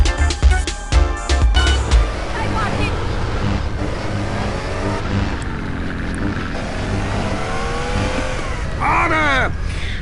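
Race car engines rev and roar through a street race in GTA San Andreas, a steady loud drone with rising pitch sweeps near the end, mixed with game music and voices talking.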